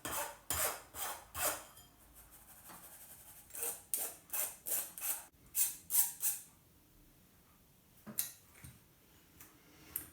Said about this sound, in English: to use the sieve you just keep stirring the icing sugar, and it goes through the sieve and into the bowl.